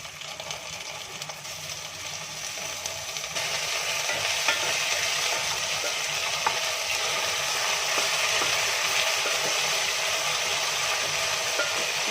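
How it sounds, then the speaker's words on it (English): A spoon stirs tomato paste through onions frying in oil, making continuous sizzling with scraping and clicking strokes that grow a little louder partway through. "And then I stir like this until it turns red, both the onions and the oil"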